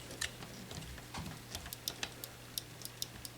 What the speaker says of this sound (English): As this motor turns these back and forward, you can see it actuating the little limit switch there.